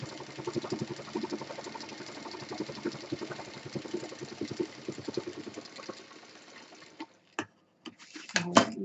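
A sewing machine stitches along the outside of a fabric college bag beside a zip, a steady rapid mechanical chatter running close and moderately loud for about seven seconds before stopping, followed by a few sharp handling knocks.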